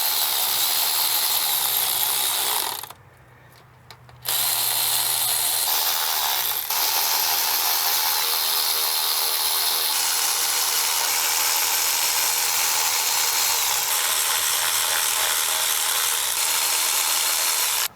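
A ratchet runs down new rocker arm bolts on a Dodge Journey engine, giving a near, continuous buzzy clicking that stops briefly near the start and then carries on unbroken.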